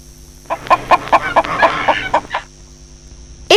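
A farm hen clucks close by in a quick run of about ten short, loud, rhythmic clucks that rise to a busier burst in the middle, then stop, leaving near silence.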